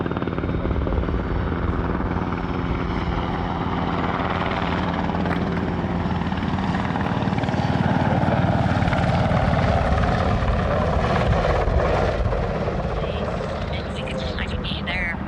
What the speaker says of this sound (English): A military helicopter flies around me a few times